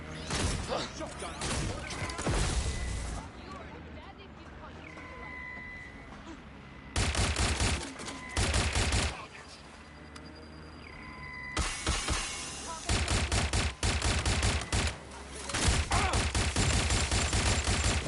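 Shotgun blasts in the video game Watch Dogs Legion, fired in loud, dense bursts of gunfire separated by quieter stretches of ambient game sound, with a voice briefly heard.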